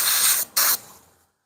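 Airbrush spraying paint onto a hoodie: a steady close airy hiss that breaks off briefly, bursts back on, then tapers away to silence.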